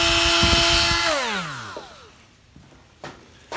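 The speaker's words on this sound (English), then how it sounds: "I recommend the Milwaukee 1/4-inch die grinder." A Milwaukee 1/4-inch die grinder whines at high pitch, then spins down with a falling tone over about a second, followed by a few faint clicks and knocks.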